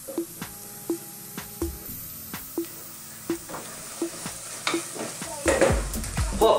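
A spoon stirs chili, cumin and coriander powder into sizzling Indian dal, with regular close scraping taps over a steady frying sizzle that swells louder toward the end, and no one speaking.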